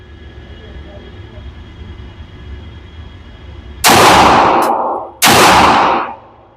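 Blaster fired twice at an outdoor range day, two sharp loud bursts about a second and a half apart, each trailing off, after quiet background with faint talk.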